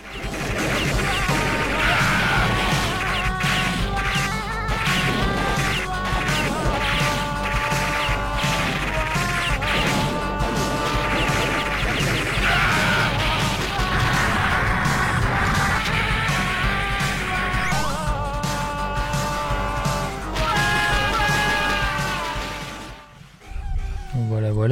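Metal Slug game audio on an Ouya console, with a dense, loud, continuous mix of music, crashing explosions, gunfire and sound effects, ending in an abrupt drop.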